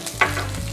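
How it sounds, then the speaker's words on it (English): Chopped green chilies hitting hot oil with curry leaves, a brief close sizzle and stir that flares up then settles into steady frying crackle, no talking. "I will fry this till the moisture is evaporated from the chilies and the curry leaves."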